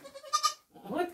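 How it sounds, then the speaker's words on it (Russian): A billy goat on a farm where a kid has just been born gives a short, close bleat in two wavering pulses, with a second rougher bleat following after a brief pause. "Вот козел."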